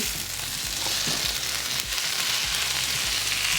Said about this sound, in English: We are keep mixing it so our onion and tomato cannot burn,